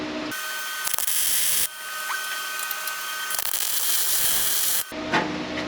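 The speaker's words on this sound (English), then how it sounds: "Get that plug weld." MIG plug welding on a Firebird car body panel: two long bursts of steady crackling buzz, close and loud, separated by a short pause, with another brief burst starting at the end.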